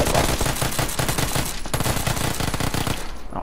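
Rapid, continuous gunfire in the PUBG video game, loud and close, with dense repeated shots running through the whole stretch and no talking.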